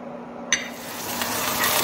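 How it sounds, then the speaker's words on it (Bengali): Fish frying in a little oil in a pan, a steady low sizzle with a sharp clink of utensil on the pan at the start, frying noise continuing close and even. "তো এখানে আমাদের মাছ ভাজা চলছে, কম তেলে করার জন্য একটু সময় লাগছে যদিও।"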